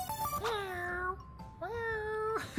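A kitten gives two drawn-out, wavering meows close by, each lasting under a second, separated by a brief pause.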